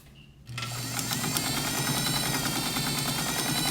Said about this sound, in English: And here I am just sewing pretty darn fast.